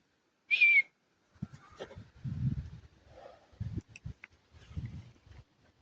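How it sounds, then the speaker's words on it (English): A single short, sharp whistle blast sounds once on a nature trail walk, followed by quiet footsteps and low rustling with no talking. "Let's try the whistle anyway."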